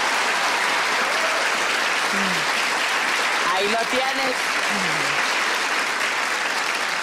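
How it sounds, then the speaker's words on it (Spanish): A television studio audience claps loudly and steadily in a thick, even wash of applause, with a few voices calling out over it. "Un aplauso para él."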